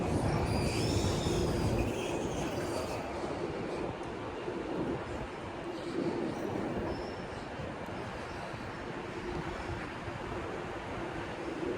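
A subway train runs beneath the streets near Times Square at night. A continuous rumble of rails and wheels is joined by faint squeals at the start.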